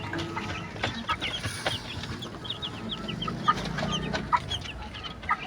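Chickens in a poultry yard cluck softly and repeatedly while pecking at feed mixed with rice. The calls are close and irregular, and no one speaks.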